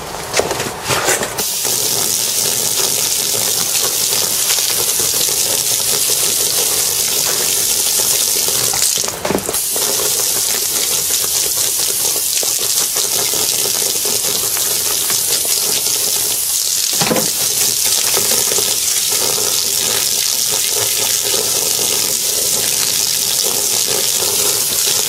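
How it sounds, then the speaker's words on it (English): Steady, loud rush of water spraying hard onto a Grey Ghost Litelock Assault Pack backpack, continuous for the whole stretch with a couple of brief sharp bursts. "Let's try a bit more water pressure this time."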